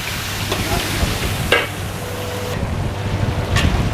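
Shallots and garlic sizzle in hot oil as they are stirred, a steady close frying hiss with scraping stir strokes, without talk.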